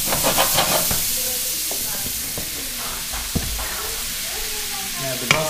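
Brussels sprouts and apple pieces browning in a hot pan, a close steady sizzle and hiss with occasional scraping stirs and clicks of the utensil against the pan.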